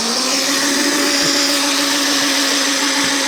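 A drill drives a cheap piston ring gapper in a garage engine build, a steady loud high whine of grinding piston rings running without a break, close up.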